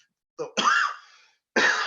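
A person coughs a few times close up, a short hack followed by a harsher cough, then another after a brief pause.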